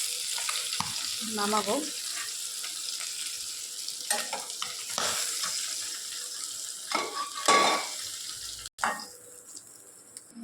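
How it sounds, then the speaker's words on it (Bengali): Tengra fish frying in hot mustard oil in a wok, with crackling sizzle, stirring and clinks of a utensil against the pan, close and fairly steady, with a few louder scrapes and a brief word spoken. "গরম করে আমরা এখানে কিছু ট্যাংরা মাছ ভাজবো।"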